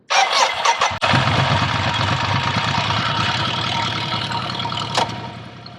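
A motorcycle engine cranks with a brief whirr, catches after a short pause and settles into a loud, steady close-up idle that holds to the end with no talking.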